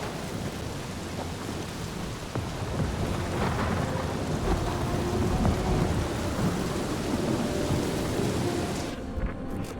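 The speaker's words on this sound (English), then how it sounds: "That is some really crazy lightning out there!" A thunderstorm in the video game Marvel's Guardians of the Galaxy, with steady heavy rain and deep rolling thunder rumbling throughout at a fairly even level.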